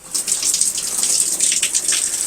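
Hot water pours steadily from an RV faucet, a continuous close hiss and splash of running water with no talking.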